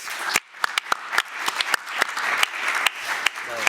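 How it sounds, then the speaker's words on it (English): Audience applause after a Euroleague career Q&A session, a burst of lively clapping from a modest crowd with sharp individual claps standing out, loud and close, continuing steadily. "Okay, guys, big applause."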